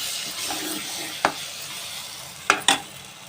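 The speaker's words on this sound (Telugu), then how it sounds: "మసాలా వేసుకొని కొంచెం బాగా వేయించుకోవాలి నూనెలో." Masala with turmeric, chilli and salt frying in oil for stuffed brinjal curry, a steady close sizzle broken by a few sharp clinks as it is stirred.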